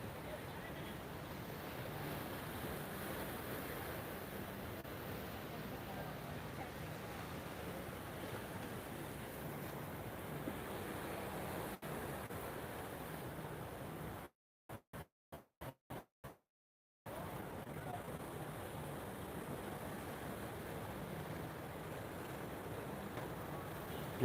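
Surf washes onto Nha Trang beach in Vietnam, a soft continuous roar of waves with light wind, steady and fairly distant, briefly cut to silence midway.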